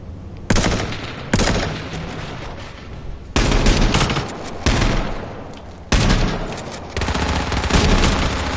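Rifle gunfire in the video game H1Z1, loud and near: several sharp bursts of shots, with short gaps between them.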